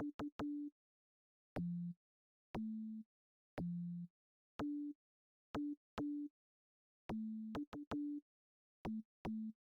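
A telephone call in Gabriel Knight: Sins of the Fathers plays as a series of short electronic tones, clean and isolated with irregular gaps between beeps.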